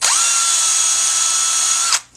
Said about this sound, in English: I don't want to try and talk over the drill